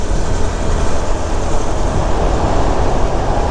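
Steady, loud rumbling roar of a passing train, continuous low-frequency noise with a broad hiss above, no voices.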